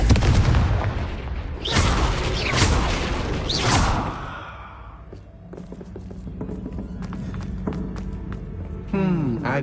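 A Confringo blasting curse goes off in Hogwarts Legacy, a run of loud booming bursts and whooshes in the first four seconds, then quieter game effects and a voice line over a low background.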